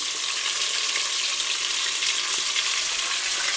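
About 100 ml of white wine and tomato puree go into a hot cooking pot, giving a steady, bright sizzling hiss that holds evenly throughout with no pause.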